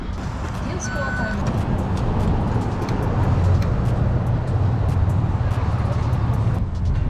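A BMW E36 328i with a single-exit exhaust rumbles steadily at low pitch, with someone talking over it.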